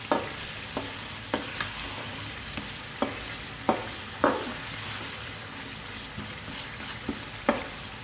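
Chopped tomato, ginger, garlic and green chilli masala stirred in a pan for an egg curry. A soft frying hiss runs beneath a dozen or so clear spatula knocks and scrapes at an uneven rhythm, close by, with no talking.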